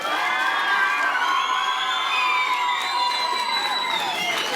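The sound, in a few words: audience applause and cheering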